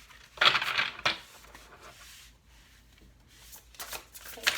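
Tarot cards riffled in a close, crisp burst, followed by a second short snap of cards and then quieter rustling and handling sounds.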